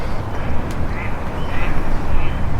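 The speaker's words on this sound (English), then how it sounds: "I really hope these geese don't do this all night." Geese by a beaver pond in early spring, honking and quacking calls over a broad, noisy background, repeated several times at moderate distance.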